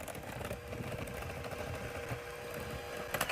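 An electric hand mixer runs steadily with its beaters whirring close by, a continuous motor buzz with no talking.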